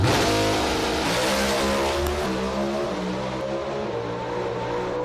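Two drag racing cars at the 2018 NHRA Southern Nationals roar down the strip in a loud, continuous full-throttle engine blast. The rising harmonic whine holds steady for several seconds with no talk over it.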